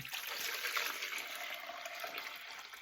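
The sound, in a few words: pouring kombucha liquid into a container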